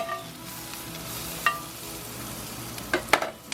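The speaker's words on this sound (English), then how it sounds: "let's get that onion cooked up a little bit in there and throw down with some shrooms" Onion and washed white mushrooms sizzle on a hot griddle for a bacon mushroom Swiss burger, a steady frying hiss with a few spatula scrapes and clicks near the end.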